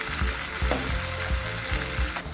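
Onion and tomato frying in a pan for an eggplant curry: a dense, continuous sizzle close at hand, with soft low thumps as the mixture is stirred, and no one speaking.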